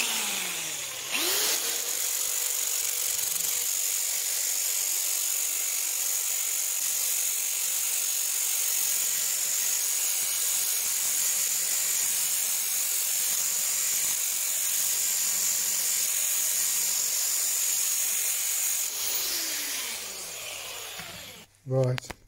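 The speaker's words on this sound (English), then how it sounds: "I'm going to change from battery driver to electric drill." An electric drill spins a rust-removing attachment against a Japanese saw blade, giving a steady high whirring and rubbing that holds loud and even for about twenty seconds, with a brief spin-up at the start and wind-down near the end.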